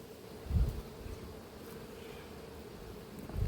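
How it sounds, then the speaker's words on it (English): Honeybees crowding the top box of a full hive buzz in a low, steady drone, with a few soft knocks and bumps of handling. "There are lots of bees in that top box, so this colony is full."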